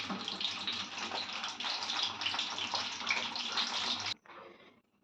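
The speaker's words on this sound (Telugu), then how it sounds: "ఇప్పుడు నూనె వేడెక్కి వేగుతుంటాయి." Whole stuffed eggplants fry in hot oil with a dense, steady hiss that holds for several seconds and then cuts off abruptly, leaving a quieter sizzle trailing away.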